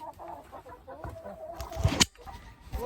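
Chickens cluck softly inside a winter coop, scattered close murmurs and a sharper squawk, faint against quiet background noise.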